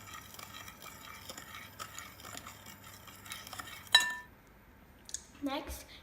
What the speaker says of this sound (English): Then you give it a bit of a stir.